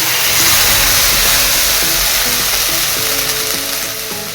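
Dried red chilies and cumin sizzle in hot oil with a loud, dense hiss and a low rumbling undertone, steady and close before easing slightly at the end.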